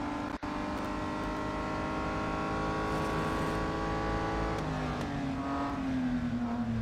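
A race car engine in Real Racing 3 drones loud and steady at high revs, with a sustained whine that shifts pitch as the car accelerates near the end, and no talk.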